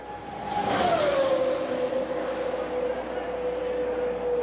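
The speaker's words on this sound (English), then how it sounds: "Running very quickly is Tom Sneva down to the line, going through 1." A 1978 Indianapolis 500 race car on a pole-day qualifying lap roars loudly past, its engine note sweeping down in pitch as it passes close and then holds a steady drone into the distance.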